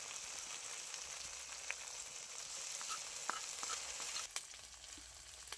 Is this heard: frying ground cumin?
yes